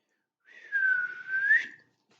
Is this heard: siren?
no